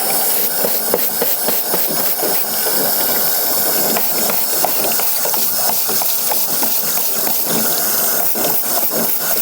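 Wire brush scrubbing a golf shoe, rapid rhythmic bristly scraping strokes, close and steady throughout with no talking.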